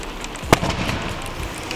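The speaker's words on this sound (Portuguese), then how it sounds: "Essa pareceu que deu uma abafada no som e na explosão, porque tava com areia, né?" A car tyre inflated until it bursts, the blast muffled by sand, gives a single sharp bang about halfway through against quiet outdoor background noise.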